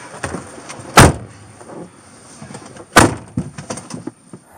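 A police car door shuts twice with loud, close slams, roughly two seconds apart, and lighter clunks and shuffling fill the gaps between them.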